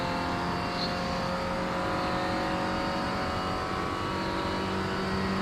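Engine of a Clio production racing car in the iRacing sim at Lime Rock, a loud, steady, high-revving drone that holds a constant pitch throughout, with no talk.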